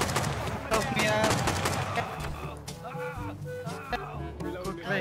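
Gunfire in the survival game Rust, repeated loud close shots and rapid bursts overlapping with voices talking throughout.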